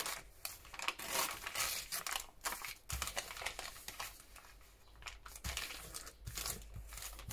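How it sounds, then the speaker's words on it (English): A sheet of paper is torn in half while a two-signature journal is being made: a run of close, crisp crinkling rips and rustles in uneven bursts, fairly quiet, with no talking. "I'm going to tear this in half."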